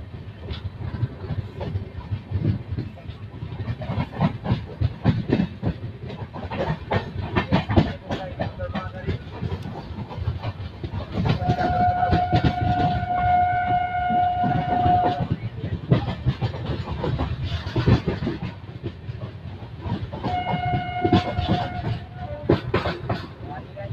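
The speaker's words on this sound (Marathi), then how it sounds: "ही गाडी लूप लाईनवरून आता पुरी स्टेशन स्किप करत आहे" A passenger train on the Pune to Kurduwadi route runs along a loop line past a skipped station, wheels clattering in an uneven rhythm under steady rumble, with tonal whistle-like squeals rising midway and again near the end.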